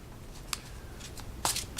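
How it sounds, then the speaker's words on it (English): A tarot deck being shuffled by hand, with a few quick riffling card bursts, brief and fairly close, the last pair louder and rushing. "Shuffles fairly well."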